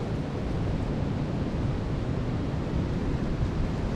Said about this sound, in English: I think it's a little bit better than a 20-mile-an-hour wind